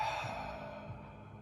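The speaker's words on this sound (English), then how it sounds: "So as you breathe in, get nice and big. As you breathe out," A slow, deep exhale during a diaphragm-opening breathing exercise, a soft airy rush that stays steady for over a second and gradually fades, heard alone.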